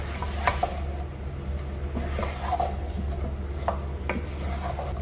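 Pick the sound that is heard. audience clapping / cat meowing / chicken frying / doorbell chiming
chicken frying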